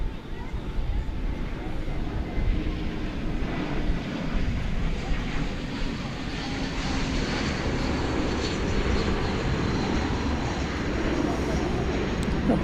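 Qantas Flight 7 taxiing at Dallas Fort Worth Airport, a moderate, steady rumble of jet engines with low wind-like noise and talk laid over it throughout.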